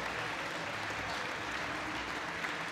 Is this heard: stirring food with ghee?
no